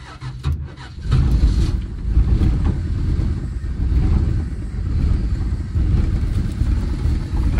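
A 1974 Dodge Dart Sport Slant Six, run after more than 17 years off the road, starts up and rolls, a loud rough low engine roar with wind buffeting, close throughout.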